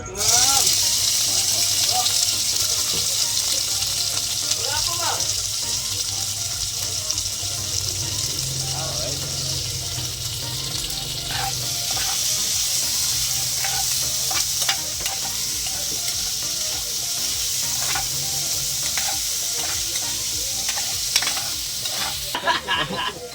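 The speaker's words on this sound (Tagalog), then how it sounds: "Tapos naglagay na ng mantika ang boss eh. Gisa-gisa na, gisa-gisa." Meat sautéing in hot cooking oil in a Filipino kitchen, a constant close sizzle and crackle with stirring scrapes, while voices talk faintly in the background.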